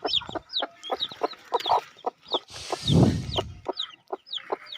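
Several hens, including a bantam, cluck in short, repeated bursts close by, with chirping chicks mixed in and a brief rustling flurry in the middle.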